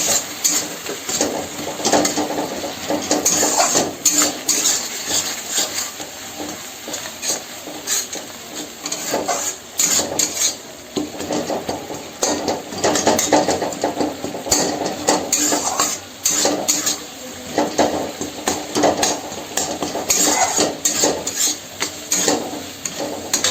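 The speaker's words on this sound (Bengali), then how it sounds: "এটা হলো ধনিয়া গুঁড়ো মশলাগুলোর সঙ্গে ভালো করে কিন্তু মিশিয়ে নিতে হবে" Coriander powder being stirred into spices in a cooking pot for a mung dal and fish head dish, a steady scraping and clinking of a utensil against the pot that continues throughout at close range.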